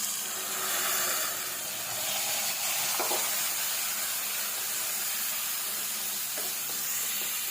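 Ground spice paste sizzles while being sautéed in a pan for a white chickpea gravy, a continuous close hiss and crackle of frying that holds steady throughout.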